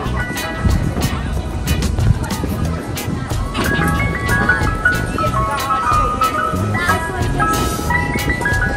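The tinkling Mister Softee ice cream truck jingle plays repeatedly from a truck on a busy Wildwood, New Jersey boardwalk street, moderately close amid crowd noise and someone talking.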